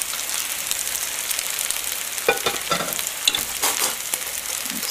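Cajun-spiced potato patties sizzle in hot oil in a pan, a steady close crackle with a few louder pops and spatters, no talking.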